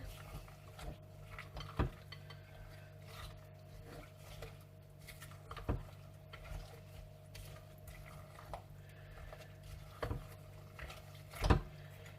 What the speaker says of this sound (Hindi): अब इसको मिक्स कर लेंगे अच्छी तरह से।